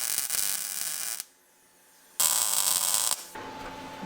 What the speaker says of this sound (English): We're gonna weld it in.